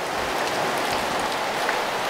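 Steady rain pours down, a dense continuous patter of drops hitting surfaces close by, with no voices.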